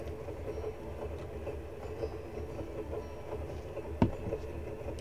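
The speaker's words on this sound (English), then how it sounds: "the train's moving faster than we are." Train rolling along in the Cornucopia video game, a steady low rumble with faint rhythmic rail noise and one brief sharp knock near the end.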